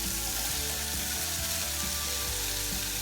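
Onions hit a hot tawa where bread pizza is cooking, and the pan answers with a loud, steady sizzle and crackle. A few soft scraping stir sounds come through, close by and with nobody talking.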